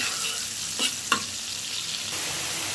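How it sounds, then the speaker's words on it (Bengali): A spice paste (masala) sautéed in a pan for a dish with bottle gourd and prawns, a loud dense hiss of frying throughout, broken by two quick scrape-like knocks of stirring, with no voices. "মশলাটা আমি কষিয়ে নিচ্ছি।"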